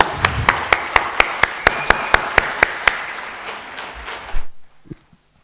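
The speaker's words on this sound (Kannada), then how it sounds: "ಓಕೆ, ಸೊ ಚಪ್ಪಾಳೆ, ದಯವಿಟ್ಟು ಚಪ್ಪಾಳೆ." An audience at a Networkers Day celebration claps loudly in a brisk, even rhythm for about four seconds, then the clapping stops abruptly and a brief shuffle follows.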